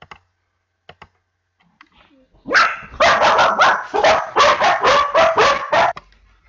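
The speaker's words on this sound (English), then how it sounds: "Yeah, sorry about the dogs, folks. Someone" Several dogs barking in a rapid, loud burst indoors after a few faint knocks on a door, the barks running in quick repeated volleys for about three seconds before stopping.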